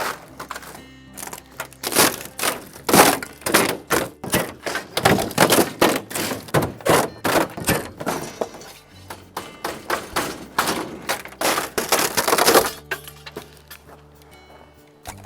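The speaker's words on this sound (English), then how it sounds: "Now I need to remove this partition so I can pull the upper panel out." Greenhouse panels and a partition are pulled out during DIY work, giving a rapid series of close, loud knocks, thumps and taps that cluster in bursts, pause briefly, then resume with no talking.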